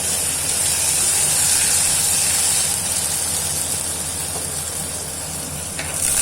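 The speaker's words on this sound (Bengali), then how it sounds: "আমি সেই আমসত্ত্বটা তেলে প্রথমে ছেড়ে দিলাম, একটুখানি নাড়াচাড়া করে নেব" Mango leather frying in hot oil for a sweet chutney, a steady loud sizzle and hiss with faint stirring underneath, continuous and close.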